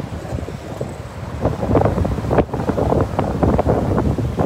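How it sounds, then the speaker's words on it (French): Wind blowing at a Miami beach, buffeting the microphone with steady loud rumbling gusts and possible surf behind, no talking. "Bon là il y a du vent."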